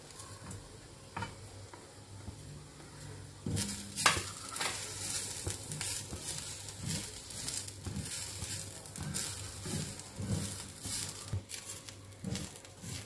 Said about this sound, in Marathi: आता ह्याच्यामध्ये आपण सुकं खोबरं घालून ते व्यवस्थित भाजून घेऊया